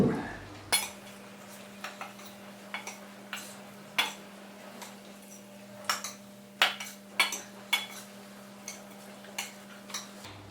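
Tomato, onion, garlic and mint bruschetta mixture being stirred in a bowl, with irregular clinks and taps of a utensil against the dish over a faint steady hum.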